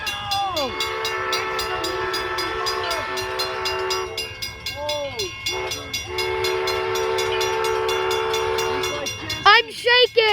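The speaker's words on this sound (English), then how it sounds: "This train's coming in" Number 3 steam train pulling into the station at Greenfield Village on a spring day, its whistle sounding in long layered blasts with steady rail rumble underneath, ending in a burst of louder, rising whistle notes.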